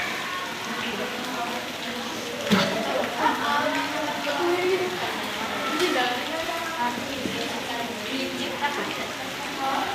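Steady rain falls with a soft, continuous hiss and scattered drops, heard around a primary-school lesson with voices murmuring underneath.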